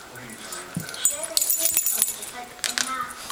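A puppy whimpers and gives short high yips while playing with an older dog, in uneven bursts close by, with jangling and handling noises mixed in.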